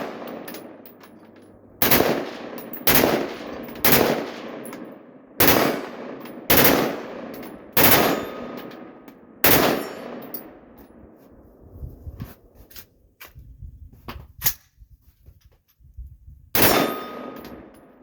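Rapid strings of close, loud gunshots from a firearm fitted with an EOTech sight, shot outdoors in bright sun; bursts come in quick clusters with brief pauses, then scattered single shots before a final burst.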